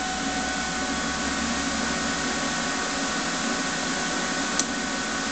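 TIG welding stainless steel with an Everlast CT520 welder, a steady loud hiss and hum held without a break, close by.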